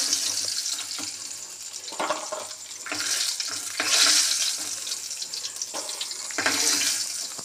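Red lentil dumplings (bori) fry in hot oil and are lifted out, giving a steady, close hiss of sizzling with rising and falling bursts and faint scraping as they are scooped.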